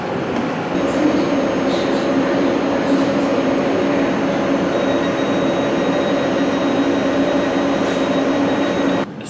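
A London Underground train rumbles continuously at close range, a steady dense roar with faint squeals and tonal whine, ending abruptly.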